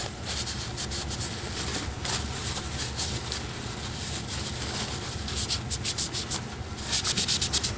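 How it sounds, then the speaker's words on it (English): Q-tips soaked in acetone rub epoxy squeeze-out from around a scope base bedded on a Christensen Arms Ridgeline 6.5 PRC rifle, giving close, steady scrubbing and swishing strokes that grow louder and more rhythmic toward the end. "We're going to use acetone and Q-tips to clean all the epoxy off."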